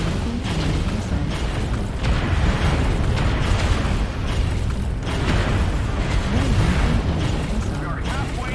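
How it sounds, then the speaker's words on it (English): Heavy, continuous booming from missile explosions in a video game space battle, loud and dense throughout with rumbling low end, while a voice speaks over the din. "Incoming missile."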